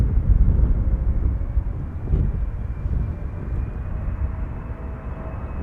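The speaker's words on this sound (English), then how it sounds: "And there we have the A320 Neo." Airbus A320neo airliner arriving at Amsterdam Schiphol, a steady low broadband engine rumble with wind buffeting, heard from the ground at moderate distance and holding fairly even throughout, with no voices.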